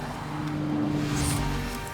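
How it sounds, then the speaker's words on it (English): A 2017 Nissan GT-R drives past with a steady, loud engine roar and road rumble, a brief brighter whine rising in the middle of the short stretch, with no voices. "Driving a GT-R"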